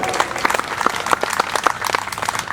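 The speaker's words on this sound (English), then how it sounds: "give him a round of applause anyway" Audience applause at an outdoor Memorial Day ceremony in Hyde Park, New York: a moderate crowd claps steadily for a brief stretch, with scattered individual claps standing out.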